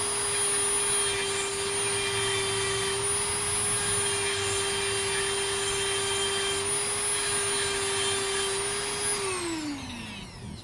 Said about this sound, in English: what I've been doing is I've been using this Dremel tool and just trim that little